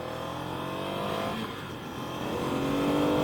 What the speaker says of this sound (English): this does have the 90-degree V-twin from Ducati